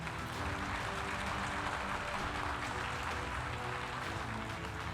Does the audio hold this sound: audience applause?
yes